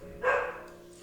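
A single short, sharp dog bark that stands alone over quiet background, with no talking.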